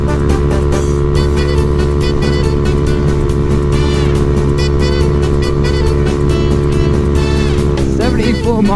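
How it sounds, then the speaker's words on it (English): A Honda Grom motorcycle's engine drones steadily at top speed on a freeway, a loud, continuous buzzing whine with heavy wind noise close to the rider, with brief passing vehicle sounds near the end. "Come on, I'm top speed at a Grom right now."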